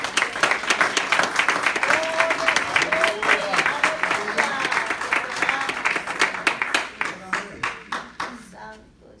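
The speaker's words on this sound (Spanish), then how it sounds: "Denle un fuerte aplauso al Señor." A church congregation at a Spanish-language sermon gives sustained, dense applause that holds steady for several seconds, then thins into scattered claps and fades out.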